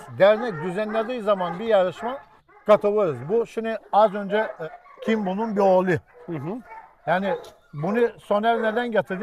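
A three-year-old dog barks and yips repeatedly in bursts close by, with someone speaking Turkish over and between the barks.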